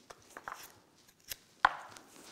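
Chrysanthemum stems pushed one by one into a floral foam ball covered in Moby Dick flowers, giving a few sharp crisp stabs and crunches spaced irregularly, close up with no talking.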